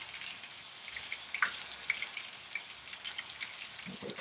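Meatballs fry in a pan, a soft continuous sizzle with scattered small pops and crackles, quiet and close, with no talking.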